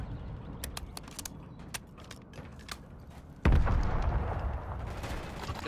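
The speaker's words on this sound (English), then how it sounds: "Loading fresh mag." A gun magazine swapped in a Call of Duty game: a series of sharp mechanical clicks and taps, then a louder clunk as the fresh magazine seats, followed by a steady noisy game background.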